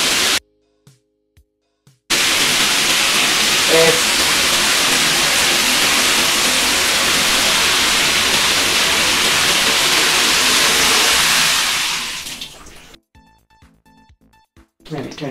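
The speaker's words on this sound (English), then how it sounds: "we're gonna have a rain shower." Bathroom rain shower head pouring water, a loud continuous hiss of spray that starts abruptly after a short pause, runs steadily for about ten seconds, then fades out.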